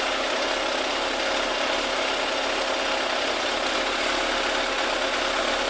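A Yamaha FZR1000 EXUP motorcycle engine idles steadily during carburettor balancing, a continuous, even mechanical hum close by with no talking over it.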